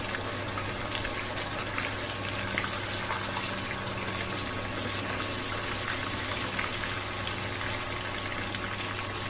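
A pork chop deep frying in hot oil gives a steady, close, dense crackling sizzle that holds evenly throughout, with no talking over it.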